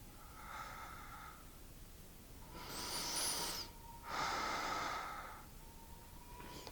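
Slow, deep breathing during a yoga stretch: a few long inhales and exhales, soft and close, in a quiet room.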